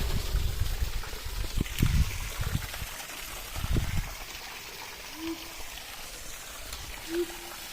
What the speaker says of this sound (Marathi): असा बांध फोडून पाणी लावतो बघा